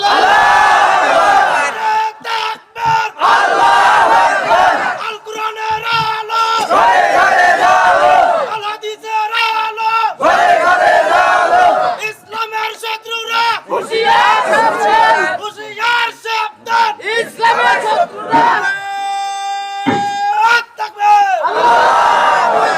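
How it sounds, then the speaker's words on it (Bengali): A large crowd at an Islamic sermon gathering chants takbir, 'Allahu Akbar', in loud repeated unison bursts separated by short gaps, with a louder, sustained call near the end. "একটু তাকবীর দেন তো সবাই।"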